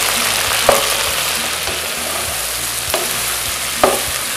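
Okra with green chillies and garlic sizzles steadily in a frying pan, with a few scraping clicks of a spoon stirring through the hissing oil.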